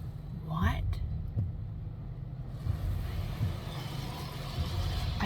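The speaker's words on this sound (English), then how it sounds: "I'm currently sitting in the automatic car wash" An automatic car wash runs over a car with the listener seated inside, a low continuous rumble and whooshing spray that swells in the second half, heard close and muffled through the cabin.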